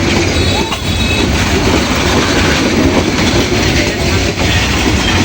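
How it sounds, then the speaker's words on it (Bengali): A train rolls along the track at low speed, a loud steady rumble with rhythmic wheel clatter as it slowly gathers pace, close by. "কোনো একটা সমস্যার কারণে ট্রেনটা এত ফুলো যাইতেছে আস্তে আস্তে স্পিডটা বাড়াচ্ছে"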